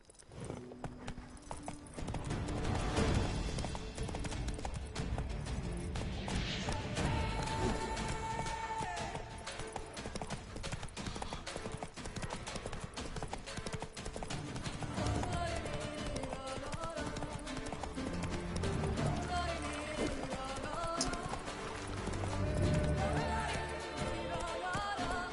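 Roach, the horse in The Witcher 3 video game, gallops in a steady stream of hoofbeats that runs unbroken for the whole stretch, loud and close over a continuous game backdrop.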